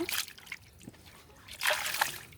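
Water splashes and trickles as fish is rinsed and washed by hand, two short bursts of sloshing separated by a quieter pause, close by.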